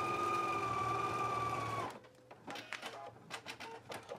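A sewing machine runs steadily while stitching down the side seams of a McCall's 7813 garment, a continuous whirring drone that stops abruptly, followed by a few clicks and handling sounds of fabric and machine.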